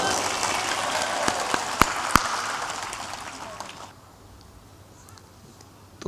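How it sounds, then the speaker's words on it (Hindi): A devotional gathering's audience claps loudly together in a dense, rain-like burst that fades away after about four seconds, leaving quiet room tone; no speech over the applause. "जोर से ताली बजाओ।"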